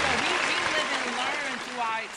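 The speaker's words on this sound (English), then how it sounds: "give her a round of applause for accountability up here" Audience applause on a morning radio podcast, clapping steadily for a couple of seconds while a voice talks over it.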